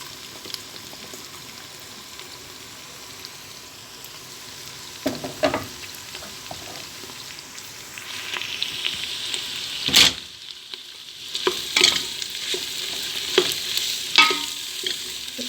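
Meat, onions and peppers sauté in a pan with a constant sizzle, while a spoon scrapes and stirs in bursts. The stirring grows busier and louder in the second half.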